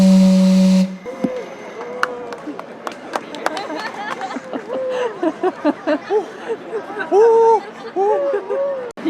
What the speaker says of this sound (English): It's one of the few steam-powered clocks in the world